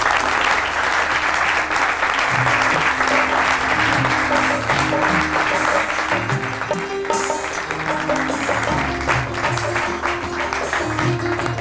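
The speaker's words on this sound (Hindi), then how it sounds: "बहुत सी तालियों में हम इस्तकबाल करेंगे मियाँ यूसुफ सलाहुद्दीन का।" A studio audience applauds steadily to welcome a guest onto a talk show, with dense, sustained clapping running the whole time and some music underneath.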